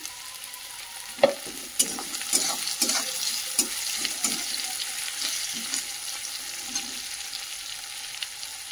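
Vegetable peels frying in a pan while being stirred, a steady close sizzle broken by soft scrapes of the spoon through the peels.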